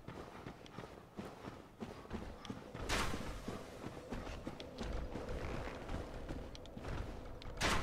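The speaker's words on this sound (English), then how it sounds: "I'm hearing footsteps" Footsteps in the Dark Souls video game, a faint, irregular run of thudding steps with scattered clatter and a louder burst partway through, without talk.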